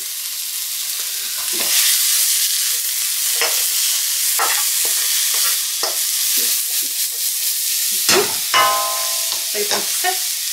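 Spring onions sizzle loudly in a hot pan, a constant bright crackle broken by repeated scraping stirs of a utensil, close and alone.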